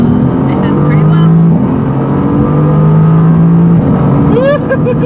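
A Mercedes-AMG GT C with a bi-turbo V8 pulls hard, a loud close engine drone climbing through two upshifts, with excited voices talking over it throughout.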